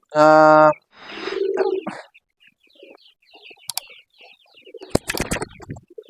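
A domestic pigeon at a loft gives a low, soft coo after a brief loud tonal call, followed by scattered clatter and rustling.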